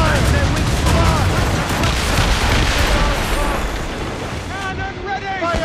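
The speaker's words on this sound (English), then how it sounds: "Cannon ready! Fire!" Ship cannons fire in a naval battle in the video game Assassin's Creed Rogue, a dense rolling barrage of loud booms under shouted orders from the crew.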